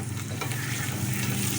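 Green chilies, black pepper and spices stirred in a frying pan for chana pulao, a steady close sizzle with a continuous scraping rustle and no talk.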